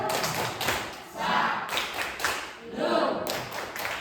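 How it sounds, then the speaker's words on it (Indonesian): Audience of teachers at a training session at SMA Negeri 1 Abang claps in unison, patterned bursts of rhythmic clapping rising and falling in waves, fairly close with voices mixed in. "Berikan tepuk tangan Bapak Ibu."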